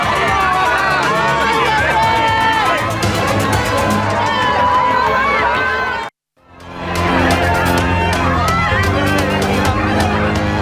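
Crowd of supporters cheering and shouting outside the South Jakarta district prosecutor's office, a dense, continuous roar of many voices close by, briefly cut out midway before resuming just as loud.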